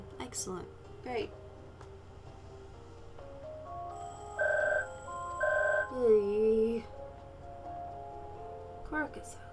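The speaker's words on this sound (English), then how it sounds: "Stop with the phone." A telephone in the video game Puzzle Agent 2 rings in two short electronic bursts, then a falling tone, amid soft game beeps and a faint background hum, with occasional brief vocal noises.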